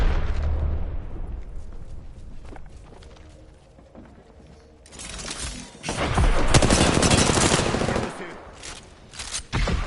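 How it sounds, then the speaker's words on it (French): A grenade blast in the Apex Legends shooter game erupts as a loud, sustained roar midway through, following quieter rattling gunfire, with another burst building at the end. "Alors, c'est une grenade là?"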